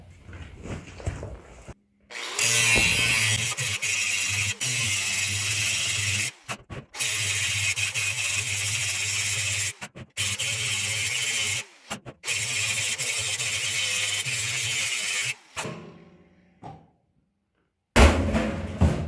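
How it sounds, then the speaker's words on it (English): Angle grinder cutting around the pinched lip of a plastic IBC tote top, a steady loud abrasive whine in long sustained runs broken by short pauses, close by with no talking. "I'm just going to grind around the lip where it's all pinched on"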